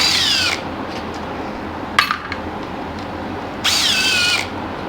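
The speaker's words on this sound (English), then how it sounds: "we can just get the rattle gun on there and take them off" On a Yamaha YFM225 engine, a rattle gun spins off cylinder head bolts in two loud whining bursts with a sharp impact clatter between them, all close up.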